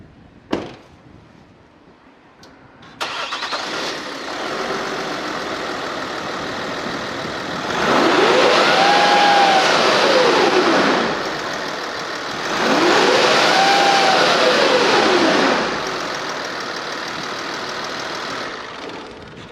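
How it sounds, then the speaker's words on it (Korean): Kia Mohave engine idling, then revving twice with the accelerator pressed part way, each rev a loud, sustained rising-and-falling roar lasting a few seconds before dropping back to idle, heard up close with no talking. "차 실내에 들어가서 악셀을 밟아 주시는데, 완전 끝까지 밟지 마시고 우웅 소리 클 때 한번 봐주세요"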